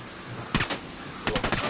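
Two short bursts of rapid automatic gunfire in the Ghost Recon Wildlands video game, a brief pause separating them, loud and close over a steady background hiss.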